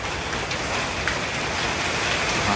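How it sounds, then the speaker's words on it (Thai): Heavy rain pours down steadily at a campsite, a dense, even hiss of drops drumming on surfaces that stays loud and unbroken throughout, with no voices. "โอ้ฝนตกหนักมากเลยครับ"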